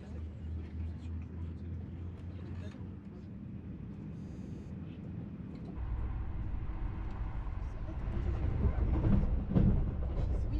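Aboard a TGV high-speed train running from Paris toward Marseille, a low cabin rumble and rolling hum fill the background, growing slightly louder partway through while a voice talks over it.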